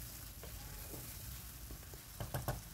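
Mustard and poppy-seed paste thinned with a little water being stirred in a frying pan over a medium gas flame, a soft continuous sizzle with a few scraping spoon taps near the end, no talking.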